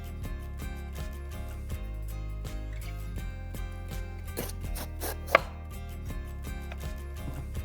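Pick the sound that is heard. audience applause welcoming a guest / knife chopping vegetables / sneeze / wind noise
knife chopping vegetables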